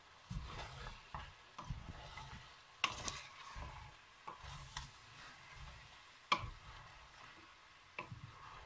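Beef stew with bay leaf and thyme being stirred in a pot, a quiet sizzle under a string of soft, irregular scraping and tapping knocks from the spoon.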